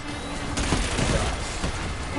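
Rockets and missiles launching in the futuristic racing game Wipeout, a rapid crackle of firing bursts with a couple of sharper thumps over about two seconds, fairly loud and without speech.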